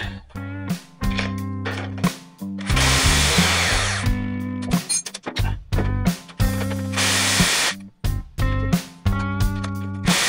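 Power tool with a socket loosening a bolt while taking apart a Peugeot 204 coupé exhaust, loud close buzzing bursts in short stop-and-start runs with brief gaps between them.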